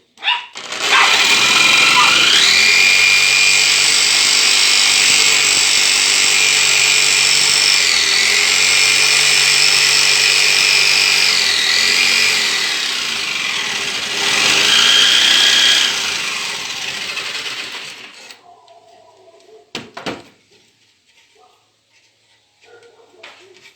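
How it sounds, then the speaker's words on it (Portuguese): Jigsaw cutting through bamboo for building a musical instrument gives a loud, steady buzzing whine for about seventeen seconds, then stops, leaving a few faint knocks. "Importante não forçar a tico-tico, deixa ela aí cortando o tempo dela para não fazer estragar muito o bambu."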